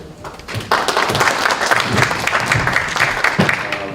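A seated audience at an economic forum on ESG practice breaks into sustained applause, a dense, loud wash of many hands clapping that swells after a brief start and holds steady throughout.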